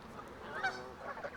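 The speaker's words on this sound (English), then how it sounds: "And we've got like 500 birds here." Large flock of around 500 geese and fowl honking at a bird-feeding spot, a dense continuous chorus of overlapping calls with one louder honk standing out near the middle.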